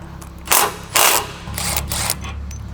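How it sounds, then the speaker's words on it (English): Bolts on the factory tow hook mounts of a Ford Bronco being loosened with a tool, heard as a few short, loud bursts of mechanical clatter and ratcheting against a steady low hum. "Now you're ready to loosen up your factory tow hook mounts right here."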